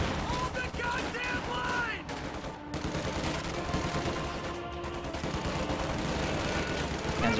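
Dense gunfire rattles through a World War II real-time strategy game battle as Panzer Grenadiers fire on a rifle squad, with sustained bursts and overlapping shots that stay loud and continuous throughout.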